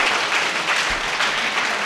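Steady applause from a crowd, a dense wash of clapping that holds at an even level throughout.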